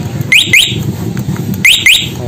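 A Yamaha Vixion motorcycle's anti-theft alarm gives two sharp, high electronic chirp bursts, pauses, then repeats the pair. The chirps ride over a steady low background hum.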